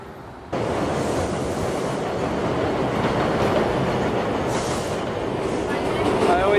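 Subway train riding the rails, a loud, steady rumble and rush of wheels running continuously close by from start to finish, with no talking over it.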